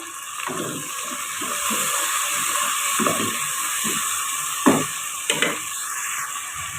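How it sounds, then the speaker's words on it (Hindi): Water poured into a pan of frying potatoes and green chickpeas sets off a steady, close sizzle, with scattered stirring clicks and a few sharper bursts of spitting. No one speaks. "अब हम हल्का सा इसमें 1 सिप के करीब पानी शामिल करेंगे।"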